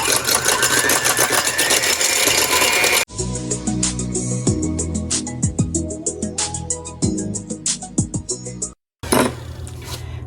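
Egg whites whipped with an electric mixer in a very small bowl, a steady motor whir with repeated rattling knocks against the bowl, cutting out briefly near the end before resuming.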